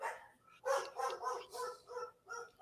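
Several dogs bark and yip excitedly in a quick run of close, loud barks with short whiny tones, no human voices present.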